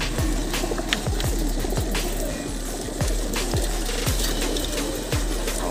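Before a release at a racing pigeon club in a farm field in Gapan, Nueva Ecija, a mass of racing pigeons coos in a dense, steady chorus up close, with scattered thumps and rustles mixed in.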